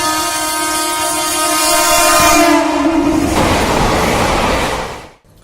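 A train runs along the Central Railway track beside a residential area in Mumbai, a loud steady rumble with a sustained horn blast that ends before the passing roar fades out.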